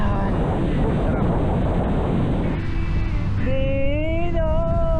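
Strong wind buffets the microphone at a beach resort in Infanta, Quezon, a steady loud roar with low rumbling gusts, while people talk over it near the end.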